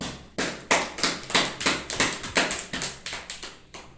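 Applause in a classroom, a small group clapping in an irregular rhythm of sharp individual claps for about four seconds, close and fairly loud with no talk.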